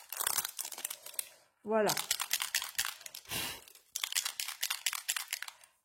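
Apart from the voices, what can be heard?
unwrapping crinkly packaging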